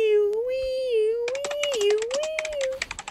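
A cat meows in a 911 emergency dispatcher video game, giving one long, wavering, rising and falling meow that lasts nearly three seconds, close and clear, with rapid keyboard typing clattering underneath.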